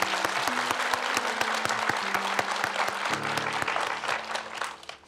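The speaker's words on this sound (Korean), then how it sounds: "우리 저분을 위해서 박수 한번." Audience at a Buddhist monk's live question-and-answer talk breaks into sustained applause, steady and dense claps filling the room from start to finish, easing slightly toward the end.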